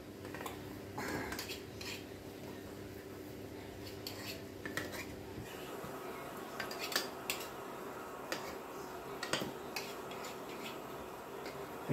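A knife trims pie pastry around the edge of a dish, giving quiet, scattered clicks, taps and scrapes of metal on crockery over a low kitchen background.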